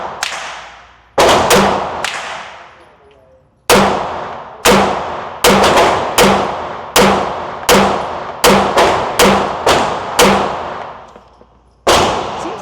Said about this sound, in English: Ten shots with the compact, Shadow 2.